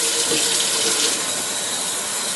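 Cold water runs steadily from a kitchen tap, a continuous close broadband splash and hiss with no pauses, heard alone without talk while a sauce mix is being prepared.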